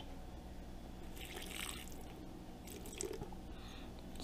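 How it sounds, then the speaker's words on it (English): A splash of water goes into cacao powder in a bowl, heard as quiet dripping and trickling over a steady background hiss, with no voices. "I'm gonna add just a little bit of water"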